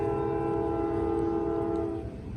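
Train number 174 approaches on a CSX line, a sustained multi-tone horn blaring steadily over a low rumble of the moving train, fairly loud and continuous, then easing slightly at the end.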